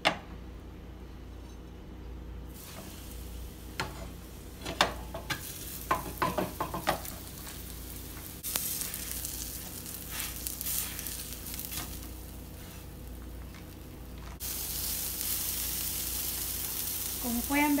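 Breaded milanesa steak sizzling in a hot pan with a little oil, a steady frying hiss with scattered clinks and scraping from handling, fairly quiet and with no one talking.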